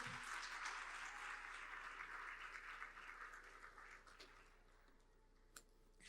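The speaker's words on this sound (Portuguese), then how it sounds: "Pode aplaudir ao Senhor." A church congregation applauds during a Portuguese-language worship service, a steady wash of many hands that fades gradually toward the end.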